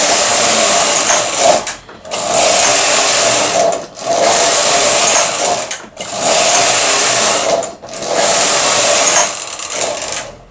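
SK280 knitting machine carriage pushed back and forth across rows, a loud rasping mechanical slide in repeated passes about two seconds each, separated by brief pauses at each end.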